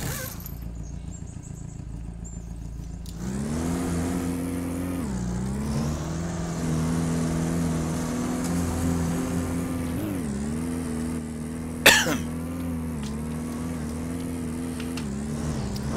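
A heavy truck engine in the Spintires off-road driving game starts up after a quiet opening and drones loudly and steadily, with its pitch rising and dipping as it revs, plus a sharp brief clatter near the end.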